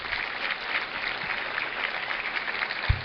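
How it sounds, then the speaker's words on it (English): A breakfast gathering audience claps in a steady, moderately distant wash of applause, even and sustained throughout with no voices over it. "I want you to give these people a round of applause"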